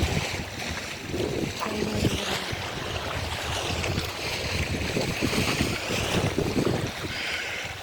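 Strong wind buffets the microphone with a constant roaring rush, gusting slightly louder and softer throughout.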